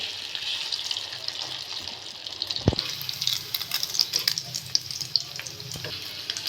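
Bread dipped in egg frying in a pan, a steady close sizzle with crackling pops throughout and one sharp knock partway through, no talking.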